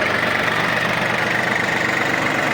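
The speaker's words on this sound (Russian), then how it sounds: "Двигатель работает очень ровно, довольно-таки тихо." A Yanmar F18 Japanese mini tractor engine idles steadily and evenly, a close, continuous mechanical hum with no talking.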